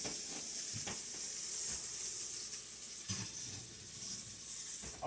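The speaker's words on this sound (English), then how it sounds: "Sizzling." Chicken curry sizzles in a hot cast iron pan, a steady close hiss and crackle of frying with faint occasional stirring or clinks, no voices.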